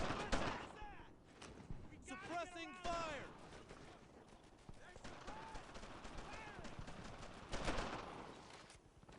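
Video-game gunfire in Brothers in Arms: Earned in Blood, a WWII squad shooter, with repeated bursts of rifle and machine-gun fire crackling through the scene, dense at the start and again near the end, under shouted voices.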